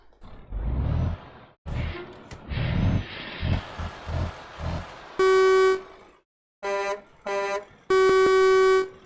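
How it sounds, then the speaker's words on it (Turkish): A Renault Magnum truck's air horn in a truck driving video game, sounded in three loud, sustained blasts of differing length after a stretch of engine rumble and short knocks. "havalı korna seçenekleri"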